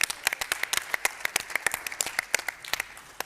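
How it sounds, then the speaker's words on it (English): A small crowd at a charity gala breaks into steady, close hand clapping, a brisk patter of individual claps that carries on throughout without talk. "Round of applause."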